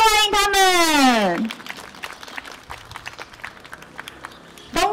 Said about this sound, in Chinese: 掌声欢迎他